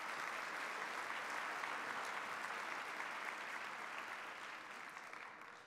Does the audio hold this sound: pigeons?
no